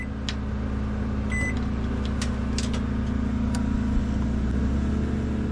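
A microwave oven powered by a WEN portable generator, giving a steady low electrical hum with a constant engine drone beneath it, broken by a few brief clicks and beeps.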